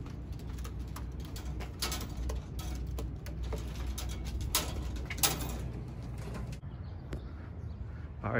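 Racing pigeons back from a training toss coo softly in a loft, mixed with scattered clicks, flutters and shuffling, all fairly faint.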